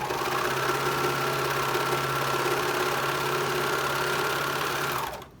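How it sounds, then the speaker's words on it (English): A sewing machine stitches a medical mask in a long, steady, close whirring run with a constant mechanical hum, and it stops abruptly at the end. "If you don't have a serger, a sewing machine will do the same thing."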